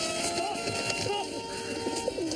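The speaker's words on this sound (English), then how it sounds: "sell these 6 black homing pigeons I've got in the back here" Black homing pigeons coo softly from the back room in a comedy scene, a low, burbling rhythm of repeated coos running steadily through the whole stretch at moderate level.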